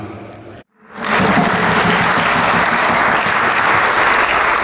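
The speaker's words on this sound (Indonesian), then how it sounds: "Bapak Ibu diikuti dengan memberikan tepuk tangan sebanyak 5 kali" A church congregation breaks into loud, sustained clapping after a brief silence, many hands merging into a continuous roar rather than distinct separate claps.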